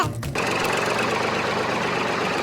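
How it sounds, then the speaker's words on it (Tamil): A diesel engine idles with a steady, loud rumble and a rapid knocking pulse, close by and running continuously after a brief quieter start. "யாராச்சும் ஒருத்தவங்க போய் டிராக்டர் எடுத்துட்டு வாங்க"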